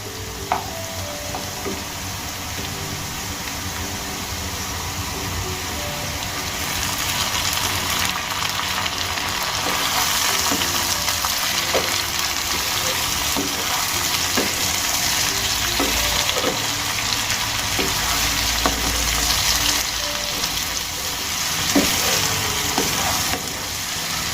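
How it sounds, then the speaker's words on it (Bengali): Chopped tomato cooks in a pan with fried potatoes for a Bengali-style fish curry. A long, steady, close sizzle carries on throughout, with occasional light clicks and taps from stirring. "এবার আমি এর মধ্যে দিয়ে দেব কুচিয়ে রাখা টমেটো"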